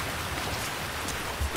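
Steady rain falls in the video game GTA V, a soft, even hiss of drops on surfaces that stays close and constant, with a faint low thump near the end.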